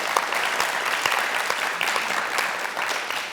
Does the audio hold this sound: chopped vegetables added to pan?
no